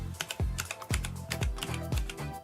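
Keys are pressed on a Tewell mechanical gaming keyboard, a quick series of sharp, close clicks with a bassy thud under each press, repeating at a lively, uneven pace with no talk.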